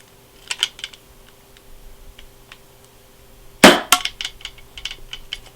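A 40 mm ASG airsoft grenade shell fires with one sharp, loud burst, followed by a few quieter clicks and rattles. Light handling taps come before it in a quiet indoor room, and nobody talks.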